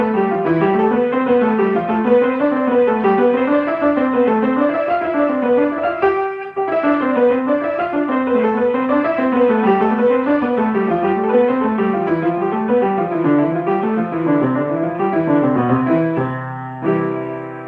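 Keyboard music with both hands played together, a repeating wavy arpeggio pattern under steady chords, continuous and close, with a brief pause midway and a stumble near the end.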